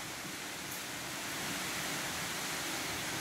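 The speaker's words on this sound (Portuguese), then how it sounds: "Dá pra ouvir também o barulho de uma cachoeira." Steady broadband rushing of a waterfall, Cachoeira das Araras in Rondônia, Brazil, a constant even roar with no breaks, fairly distant and without voices.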